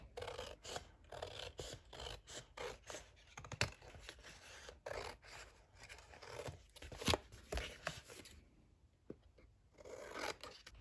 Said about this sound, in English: go ahead and cut off your extra cardstock before you start the folding